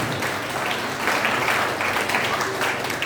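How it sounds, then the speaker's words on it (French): A church congregation applauding: a dense, steady wash of many hands clapping, loud and close throughout, with voices mixed faintly into the crowd noise. "Acclamez mon Dieu une fois."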